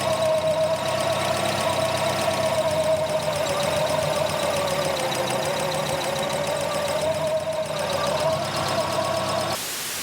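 A Mk1 Escort engine idles steadily and close by during an air leak spray test around the front throttle body, with a constant even drone that shifts slightly near the end.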